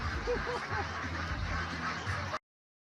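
Several short duck quacks play in quick succession as a stream alert for a donation, layered over game sound and a low voice in the background.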